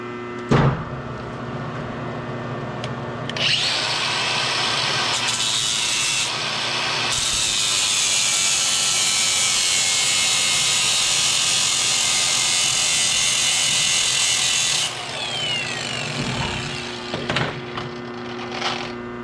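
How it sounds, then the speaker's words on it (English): A limited slip differential block for a Getrag F23 transmission being ground flat, a loud, sustained harsh grinding that starts after a few seconds and runs about eleven seconds, with brief knocks and scrapes before and after. "We're going to grind it to make it flat so the sides of this block can ride up against there."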